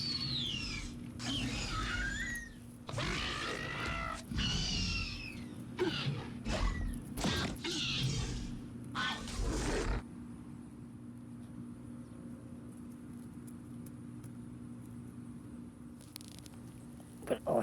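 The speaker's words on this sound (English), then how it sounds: "We see that the Raptors are doing loud calls to try and intimidate Rose Petal." Raptor dinosaurs in a video game let out loud, sweeping screeching calls in a rapid burst of overlapping cries during the first half, then fall away, leaving only a low steady background hum.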